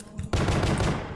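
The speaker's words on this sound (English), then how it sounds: "This attachment allows Boga to fire faster" A video-game gun fitted with a faster-firing attachment unleashes a rapid, loud, continuous stream of shots right up close.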